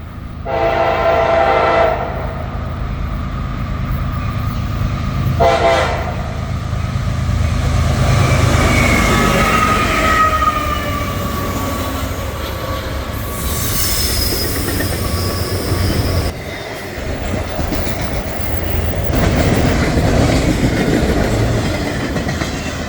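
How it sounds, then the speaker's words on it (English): A CSX intermodal freight train passes westbound, its loud horn sounding in a few blasts over the rumble and clatter of wheels and cars, with some squealing as it rolls by close up. "we would get interrupted by a CSX intermodal on its way westbound with a very nice crew"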